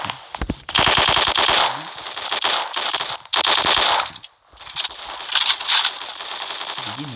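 Rapid automatic gunfire in the Block Strike mobile shooter game, loud sustained bursts of shots with brief pauses between strings, up close and dominating.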